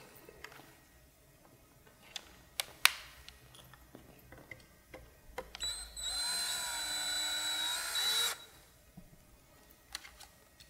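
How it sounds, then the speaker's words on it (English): A small power drill whirs steadily for about two seconds unwinding a guitar string, amid scattered clicks and ticks of handling, fairly close and moderately loud. "whenever you're unwinding, if you choose to use the drill"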